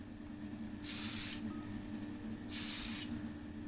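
Two short bursts of spray paint coating a Hot Wheels Ford Fairmont base black, each hiss lasting about half a second, close and fairly loud over a low steady background hum.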